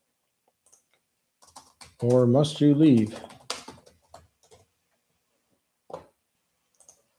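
Typing on a computer keyboard during a live stream, heard as sparse, soft clicks scattered around and between a man's speech, fairly close but quiet.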